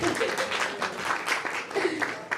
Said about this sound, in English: Clap it up for her too, y'all.